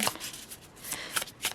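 An oracle card deck shuffled up close, several quick papery riffles in a row.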